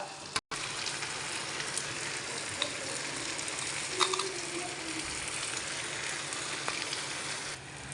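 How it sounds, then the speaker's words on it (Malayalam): A mango pickle mixture sautéing in a pan makes a steady, even sizzle throughout, with a few faint scrapes of stirring and a brief dropout near the start. "എന്നിട്ട് 2-3 മിനിറ്റ് ഇത് വഴറ്റുക."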